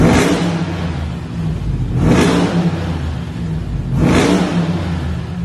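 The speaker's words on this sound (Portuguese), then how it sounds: "eu tô acelerando o carro aqui de dentro" A new four-wheel-drive pickup truck engine is revved in three surges, heard from inside the cab. Each burst of throttle rises and falls over a steady, loud, rumbling idle.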